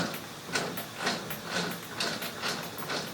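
Metal lathe parts being handled while a 1/2 inch collet is fitted for brass stock in a small home shop, with several brief metallic clicks and rattles spaced about half a second apart, moderately quiet and without talk.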